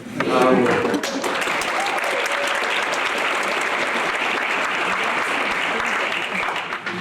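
Sustained applause from a school concert audience at a middle school winter concert, greeting the jazz band; a dense, steady wash of clapping that holds at full strength for several seconds, with a brief voice at the very start.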